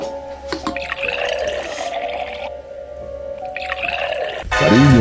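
Water pours and gurgles into laboratory flasks in a cartoon, a run of liquid filling sounds with rising bubbly tones, a brief pause, then a louder final glug over background music.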